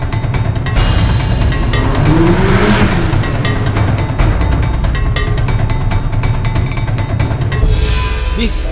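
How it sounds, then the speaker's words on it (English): A 2017 Audi S3 sedan driving, its engine a loud, continuous drone with rising and falling revs, close and dominant throughout. "This is the latest S3 sedan."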